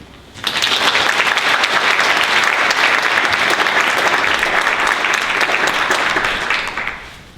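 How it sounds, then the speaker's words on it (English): Sustained, loud applause from a chapel audience welcoming a speaker, a dense wash of clapping that swells in quickly, holds steady for about seven seconds, and tapers off at the end. "So please give a welcoming applause to Erin."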